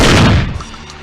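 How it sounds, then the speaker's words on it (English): A single loud, close blast from a 12-gauge shotgun attachment loaded with buckshot in the Splinter Cell: Chaos Theory video game, a sharp boom that decays quickly with a short rumbling tail. "The shotgun attachment fires a 12-gauge shell loaded with triple-aught buck."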